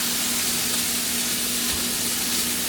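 Pork chops brown in a hot pan, giving off a steady, close, broadband sizzle that holds evenly throughout, with a faint hum underneath and no talking.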